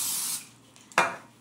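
A short hiss of cooking spray on a pan starts the clip and fades, then a second brief, sharp spray burst follows after a pause, close up and quiet.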